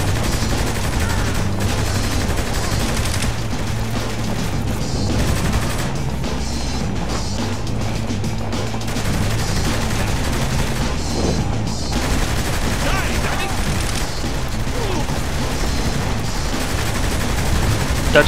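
Sustained gunfire fills a firefight in Saints Row The Third, with loud, dense volleys of automatic and single shots close in and heavy booms mixed in, almost without pause.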